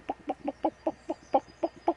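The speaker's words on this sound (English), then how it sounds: "Chickens." Chickens in the medieval game Kingdom Come: Deliverance cluck close by in a steady run of about ten short, evenly spaced clucks, clear and alone.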